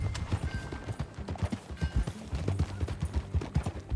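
Galloping hoofbeats of a ridden horse in Red Dead Redemption 2, a steady fast clip-clop rhythm close up over a continuous low rumble of movement.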